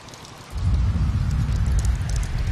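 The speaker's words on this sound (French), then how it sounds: "on est dans l'ambiance, il pleut, il y a de l'orage" Heavy rain bursts in suddenly and holds as a dense, loud low roar in the racing game Trials Evolution, with a stormy rumble under the hiss and no voices.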